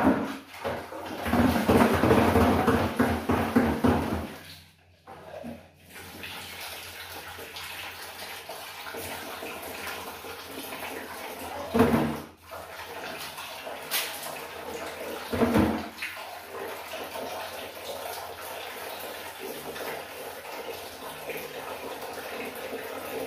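Water runs and splashes from a bathroom shower during cleaning, a loud steady hiss that breaks off briefly a few times before resuming. Faint sounds of activity mix in beneath it.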